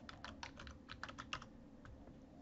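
Close clicks of a computer keyboard as an address is entered while setting up a network gateway, a quick irregular run of keystrokes that tapers off, quiet and alone.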